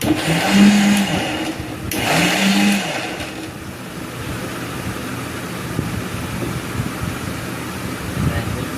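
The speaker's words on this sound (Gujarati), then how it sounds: "હમણે મિક્સરમાં ગ્રેવી થાય છે" Kitchen mixer grinder whirs steadily as it blends gravy for a steamed vegetable dish, a constant mechanical drone running through the whole stretch while voices talk briefly near the start.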